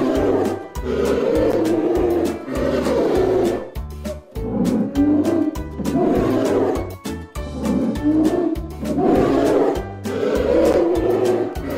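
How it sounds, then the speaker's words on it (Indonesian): A polar bear gives repeated loud, deep, growling roars in long rhythmic bursts with brief gaps between them, close and alone with no talking. "Beruang kutub."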